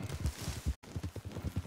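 Hooves of a stolen horse clip-clop in Red Dead Redemption 2, a quick steady rhythm of close, muffled thuds with a short gap partway through.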